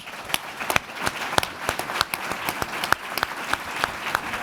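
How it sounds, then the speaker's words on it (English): A crowd at a panel discussion on tackling gun violence gives a round of applause, sharp individual claps standing out from a steady wash of hands, moderately loud and continuous without any talking. "including a huge round of applause"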